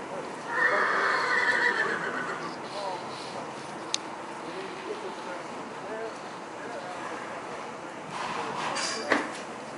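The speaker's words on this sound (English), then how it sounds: "She's a nice horse." A palomino mare whinnies loudly near the start, followed by a background of soft hoof thuds and shuffling with a few sharp knocks.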